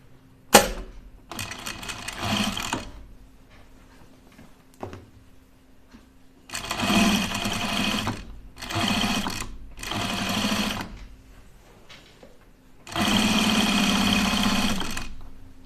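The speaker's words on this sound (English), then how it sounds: "We understitch the body seam allowance towards the facing." A sewing machine understitching a sweatshirt seam allowance, running in several loud bursts of rapid mechanical chatter separated by short pauses, close and clear.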